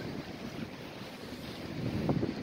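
Faint wind buffets the microphone while waves wash softly against the shore at English Bay, Vancouver, in a steady, low background rush.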